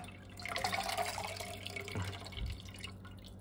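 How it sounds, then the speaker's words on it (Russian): Water runs and splashes nearby with irregular drips and soft knocks, from an aquarium filter being cleaned, fairly quiet, no talking. "Вот вода пошла, да-да-да."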